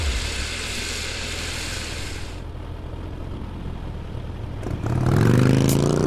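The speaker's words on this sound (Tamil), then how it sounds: "வண்டியை கொஞ்சம் மெதுவா ஓட்டுங்க." A vehicle drives fast with a steady, loud road and engine roar that thins out midway, then swells into a rising, revving surge near the end.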